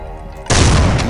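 A single loud, close shotgun blast from the shooter Soldier of Fortune 2: Double Helix bursts in abruptly after a brief quieter lead-in and rings out with a heavy, broad boom.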